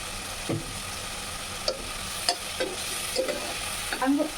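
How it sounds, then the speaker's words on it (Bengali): Chili and spices fry in a pan, a soft continuous sizzle broken by several light stirring scrapes and clinks of a utensil at irregular intervals, close by. "একটু একটু মরিচটা একটু ভাজা ভাজা হয়ে নিলে, মশলাটা একটু ভাজা হয়ে নিলে আমি তারপর এটা দিয়ে দিই।"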